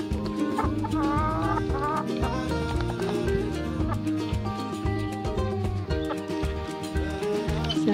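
Chickens cluck in their coop at feeding time, busy overlapping calls close by, mixed with other clattering and tonal sounds across the whole stretch.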